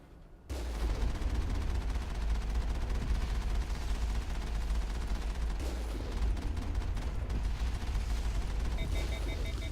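A vehicle-mounted gun in Mass Effect fires continuously after a brief quiet start, a loud, dense stream of rapid shots rattling for nearly ten seconds, with a few high electronic beeps near the end.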